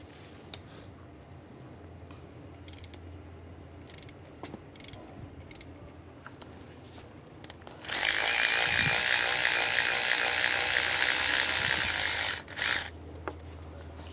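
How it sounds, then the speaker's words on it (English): A ratchet with an E10 socket loosens the idler pulley bolt on a 2006-2009 Mercedes E350 engine, making a loud, steady run of rapid clicks for about four seconds after quiet shop background sounds. "This other pulley, idler pulley, we're going to take that off. That is going to be an E10 socket we're going to use."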